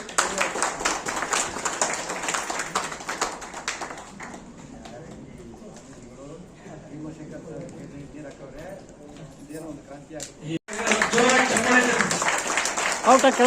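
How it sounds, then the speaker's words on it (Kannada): An audience at a tenth anniversary function of a Dalit action committee claps loudly and rapidly, then fades under a spoken voice before a fresh burst of applause returns. "ಜೋರಾಗಿ ಚಪ್ಪಾಳೆ ತಟ್ಟಿ"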